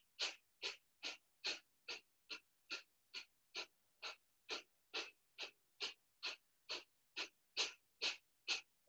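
Rapid breath of fire yoga breathing, about twenty sharp rhythmic exhalations through the nose in quick, even succession, close and alone.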